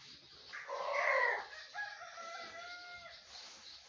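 A rooster named Simplice crows once, a faint, somewhat distant cock-a-doodle-doo with a rough opening and a drawn-out, wavering tail.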